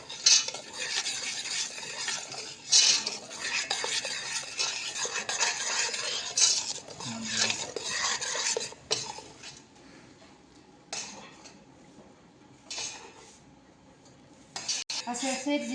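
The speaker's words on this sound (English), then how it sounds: "We have to mix it slowly when you boil it." Mango jam boils in a pot while a spoon stirs it slowly, bright bubbling sizzle and scraping against the metal at first, then quieter gaps broken by short bursts of stirring, no voices.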